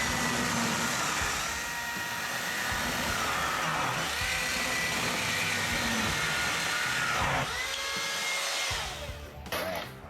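A Milwaukee M18 Fuel battery chainsaw cuts a piece off a 2x4 on a light table, its motor whining steadily and loudly at close range before the pitch drops and winds down near the end.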